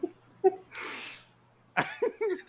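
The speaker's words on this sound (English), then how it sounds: "I am getting over this stupid freaking cough." One person coughing while getting over a cough: a few harsh coughs and throat noises, a breathy stretch in between, then a sharp cough burst, all close and fairly loud with brief vocal sounds.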